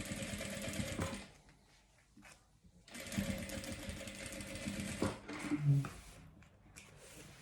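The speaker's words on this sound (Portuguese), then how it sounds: "Vou passar agora uma costurinha de segurança toda em volta dela." A sewing machine runs a safety seam around the edge of a fabric piece, stitching in steady bursts with short pauses between runs, close and moderately loud.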